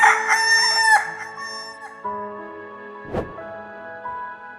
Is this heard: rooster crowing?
yes